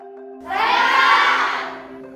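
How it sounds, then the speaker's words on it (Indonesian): A burst of children cheering and shouting together in a classroom swells up loudly, peaks, then fades after about a second, with no clear clapping heard. "beri tepuk tangan buat teman kita"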